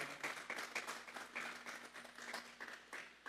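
A church congregation claps together during a worship service, a steady, fairly dense patter of hands that holds evenly throughout at moderate volume.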